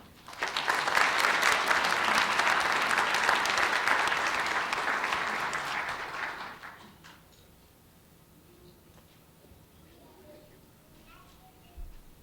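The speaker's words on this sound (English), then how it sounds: "Please give a warm round of applause to Mr. Ty Darland" Audience applause at an Atlanta police recruit graduation ceremony: a loud, dense burst of clapping that holds for about six seconds, then fades out into quiet room tone.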